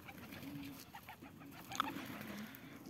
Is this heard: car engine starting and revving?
no